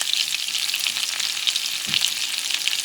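Cherry tomatoes fry in butter over medium heat, giving a loud, close, crackling sizzle with rapid spitting pops that carries on without pause.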